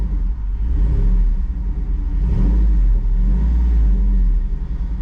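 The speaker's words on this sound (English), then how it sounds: "right now the exhaust is turned on, which means that the valves are open, which is loud mode" A 2023 Jeep Wrangler Rubicon 392 with its exhaust valves open in loud mode rumbles at light throttle, a deep steady burble close by with slight swells.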